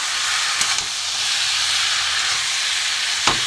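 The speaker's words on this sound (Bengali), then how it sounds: "একটু ভালো করে কষে নেবো মশলার সাথে।" Katla fish head frying with spices in a pan for kanta chorchori: a steady, loud sizzling hiss with a few faint clicks and pops.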